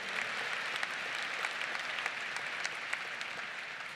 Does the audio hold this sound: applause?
yes